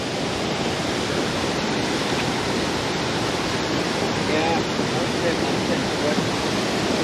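An icy waterfall on a very cold day rushes steadily, a dense continuous roar of falling water that stays even and loud for the whole stretch.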